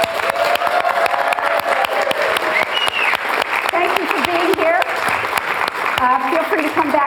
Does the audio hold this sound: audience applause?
yes